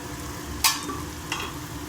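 Soya chunks (meal maker) tipped into a pan of frying green chillies and stirred, giving two short bursts of sizzling scrape over a steady low background hiss.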